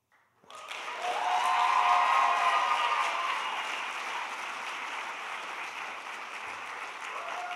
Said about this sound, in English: give a warm round of applause for Brielle